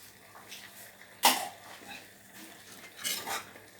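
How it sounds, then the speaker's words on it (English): Utensil clinks against a pot while fish balls are stirred, giving a few light scrapes and one sharp clatter, then a softer rattle near the end, close and otherwise quiet. "I'm going to give my fish a stir."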